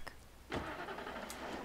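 A car engine in Alan Wake cranks and catches with a short whirring start, then settles into a steady mid-pitched idle, heard close and alone.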